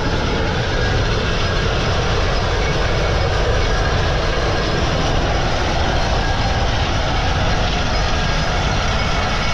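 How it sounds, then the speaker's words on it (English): A cog railway train rolling past on a mountain line, a loud, steady rumble and rattle filling the whole stretch without letup. "Here comes the Cog Railway."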